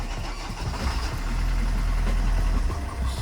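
A Vauxhall Corsa engine idles steadily with a low, continuous rumble that swells slightly partway through, close and alone with no talking.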